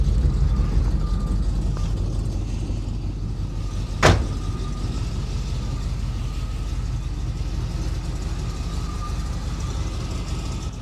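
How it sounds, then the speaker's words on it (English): A 1936 Chevy hot rod engine idling on its own after warming up, a steady low rumble throughout with one brief sharp click partway through. "let's see if he's warmed up enough to idle on his own"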